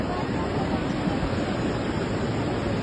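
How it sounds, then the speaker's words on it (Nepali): The flooded Roshi river roars as a loud, continuous, dense rush of water, steady and close throughout with no pauses. "ल खोलो गनाएर ठुलै आयो।"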